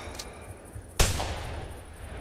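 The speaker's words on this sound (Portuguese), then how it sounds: "Já dei dois tiros naquele feed Kenga." A single sharp rifle shot in the hunting video game theHunter cracks out midway, loud and broadband, followed by a brief decaying tail over low background noise.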